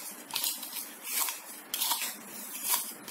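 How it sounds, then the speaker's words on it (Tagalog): Egg being whisked with salt in a bowl, giving a repeated scraping clatter of utensil against the bowl in steady bursts, close and fairly quiet, with no talk. "Ihalo po natin ang asin mga mamsi dito sa ating itlog. Paghaluin po natin ito"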